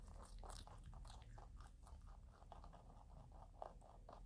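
Pet rabbits crunching their breakfast up close, a quick run of crisp bites and chewing crunches repeating unevenly, fairly quiet with no talking.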